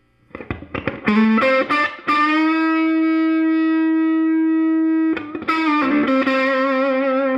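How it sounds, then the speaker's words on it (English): A Fender Champ 12 tube amp at full gain: heavily distorted electric guitar plays a few choppy notes, then rings out a long sustained buzzing chord before more crunchy strums. "turn the gain all the way up so you can see what kind of distortion you can get"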